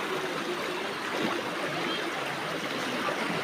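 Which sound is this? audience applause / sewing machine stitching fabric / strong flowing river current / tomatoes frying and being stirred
strong flowing river current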